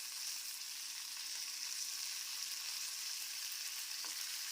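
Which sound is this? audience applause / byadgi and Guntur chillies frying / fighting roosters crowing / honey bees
byadgi and Guntur chillies frying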